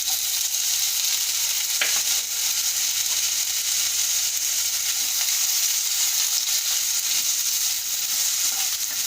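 Boiled lotus stem pieces fry in hot oil in a pan, producing a dense, even sizzle that holds steady throughout, close and continuous with no talk.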